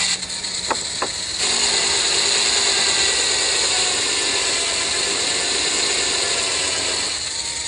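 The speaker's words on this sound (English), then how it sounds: "So we're sanding a piece of wood." A solar-powered power sander works a piece of wood with a loud, steady whir and abrasive rasp held close, running continuously after a few brief clicks at the start.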